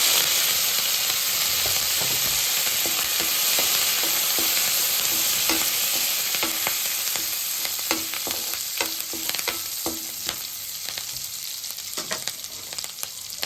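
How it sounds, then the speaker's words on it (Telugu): Cut green chillies and curry leaves sizzle steadily in hot oil in a frying pan for kaju chilli paneer. The hiss is loud and close, and a spoon stirs it with scattered scrapes and taps that grow busier toward the end. No one speaks. "వేగిన తర్వాత కట్ చేసుకున్న పచ్చిమిర్చి, కొంచెం కరివేపాకు వేసుకుందాం."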